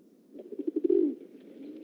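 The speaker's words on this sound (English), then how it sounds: "A large grey pigeon had landed on the drainpipe and was strutting along the gutter." A large grey pigeon coos close by, a short run of soft throaty pulses swelling into one longer rolling coo, with no voices.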